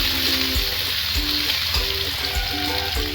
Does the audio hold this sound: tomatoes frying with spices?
yes